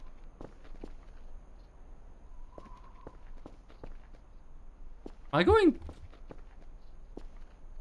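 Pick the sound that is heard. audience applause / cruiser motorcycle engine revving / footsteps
footsteps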